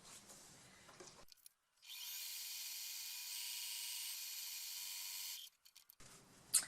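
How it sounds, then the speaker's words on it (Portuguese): A sewing machine stitching around the flap of a small handbag, a steady high mechanical whir running for several seconds on its own, with quieter handling noise before and after. "E nós vamos passar a costura com pé de máquina em todo o seu contorno"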